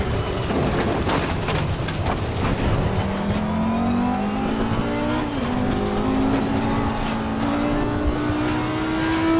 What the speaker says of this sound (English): Let's start the car up again.